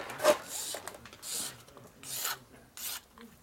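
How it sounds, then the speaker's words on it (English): A rough plastic edge is deburred by hand, making four separate short rasping scrapes spaced about a second apart, close by and fairly soft. "Oh, we're gonna deburr, you can't leave it this raw."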